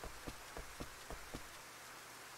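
Rain falls in the video game Rune Factory as a soft, steady hiss with faint, regularly spaced patters, quiet and with no voices.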